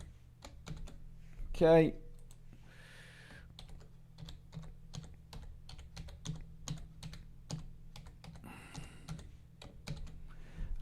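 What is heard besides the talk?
typing a password on a computer keyboard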